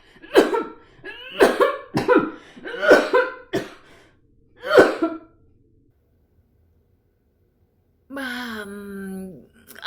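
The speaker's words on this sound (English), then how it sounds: "Sounds like you got a real nasty cough there" A series of harsh, rattling coughs in quick bursts, followed by a pause and then a drawn-out raspy groan.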